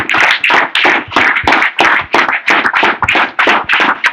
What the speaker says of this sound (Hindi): ताली ठोको ताली